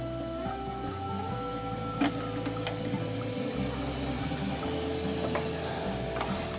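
A wood lathe runs steadily while turning a hybrid resin casting, giving a constant mechanical hum with faint rattling and a couple of brief taps over the drone.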